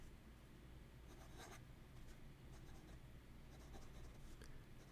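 A Scribo La Dotta fountain pen writes on paper, giving a very faint, close scratching with a few brief, louder strokes in a quiet room.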